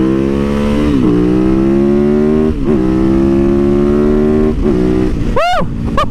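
A bobber motorcycle engine revs hard and accelerates up through several gear changes, loud and close, its pitch climbing repeatedly before a final sharp rev near the end.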